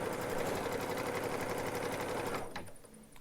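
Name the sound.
Baby Lock embroidery machine sewing appliqué tack down stitch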